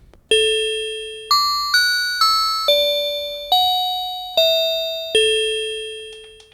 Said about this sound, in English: So you can get sort of xylophone or